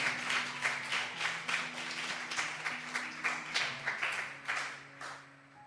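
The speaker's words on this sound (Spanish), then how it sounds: "A ver, de un aplauso de valiente." Church congregation applauding during a sermon in Bolivia, dense clapping with rhythmic surges, steady and moderately loud throughout, with a low sustained tone underneath.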